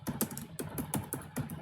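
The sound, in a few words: typing a program on a computer keyboard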